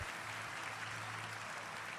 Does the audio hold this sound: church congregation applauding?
yes